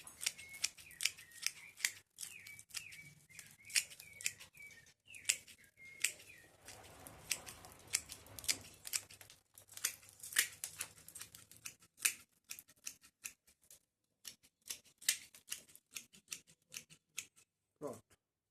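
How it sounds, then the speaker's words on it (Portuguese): Scissors snip through bonsai plant roots in a quick series of sharp, close clicks and cuts, some clustered and some spaced out, with quiet speech now and then. "Agora a gente vai fazer um corte. Cortar um pouco das raízes também"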